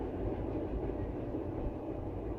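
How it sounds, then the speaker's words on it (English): A train rolls past on tracks close outside a window, a faint steady rumble and low rail noise holding evenly throughout with no clear voices. "Here comes a train."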